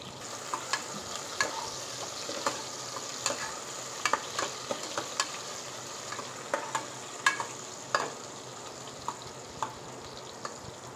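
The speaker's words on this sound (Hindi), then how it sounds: "अब इसमें हम प्याज डालते हैं इसको भूनने के लिए अब इसमें दो से तीन तेज़ पत्ते डाल दिए" Onions and bay leaves frying in oil in a pan for mutton curry give a low, steady sizzle, broken by regular sharp scrapes and clicks of a spoon stirring.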